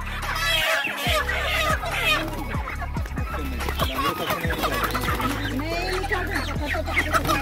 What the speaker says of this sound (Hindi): इतने सारी सफेद सफेद मुर्गियाँ,